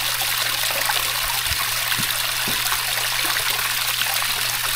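Water trickles steadily down a small homemade backyard pond waterfall, a close, continuous splashing babble with a few soft drips and plops standing out, and a faint low hum from the pond filter pump.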